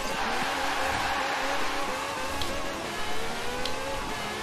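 Modified 1500-horsepower car racing in Forza Horizon 4, a steady loud engine drone with rising and falling revs and brief breaks at gear shifts.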